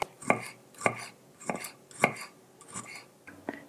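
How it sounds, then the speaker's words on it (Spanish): Knife chopping a garlic clove on a cutting board while cooking a meat filling: six crisp, close, fairly evenly spaced strokes with no talk. "Picamos un diente de ajo."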